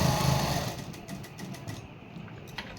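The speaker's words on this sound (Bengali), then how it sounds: "এই টিকেন বরাবর রেখে সুন্দর করে একটা এখানে মাছ বরাবর একটা সেলাই দিয়ে দিবেন" A sewing machine stitches fabric along a garment collar with a steady, close mechanical whir that fades toward the end of the run, with no talk.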